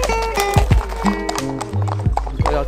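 A horse's hooves clip-clop in a steady walking rhythm close by on a sunny evening in Normandy, with a neigh partway through and a voice talking briefly.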